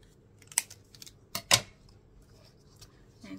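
Scissors cutting paper card at close range: a few quick, crisp snips in an irregular cluster, quiet against a faint background hum.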